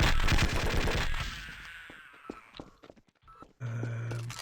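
Automatic turret fire in Half-Life, a loud close burst of rapid shots that tapers into scattered single reports and echoes, then gives way to a steady mechanical hum.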